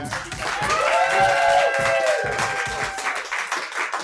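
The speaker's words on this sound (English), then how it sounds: "Please put your hands together, give it up. Make some noise for Erie Diamond." Live show audience clapping and cheering for a performer, with loud whoops and shouted voices riding over the applause before it thins out.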